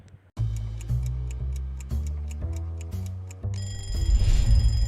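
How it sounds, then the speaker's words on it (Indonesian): A phone alarm rings with a rising sequence of bright, bell-like tones in a steady repeating rhythm, growing fuller and louder toward the end, close and alone without voices. "Setiap pagi mungkin kita bangun karena dengar suara alarm di HP kita"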